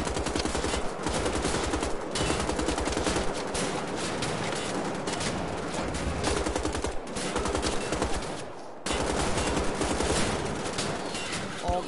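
Heavy sustained gunfire in the video game Wolfenstein: The Old Blood at the docks, rapid machine-gun bursts and loud shots with brief pauses and faint voices underneath.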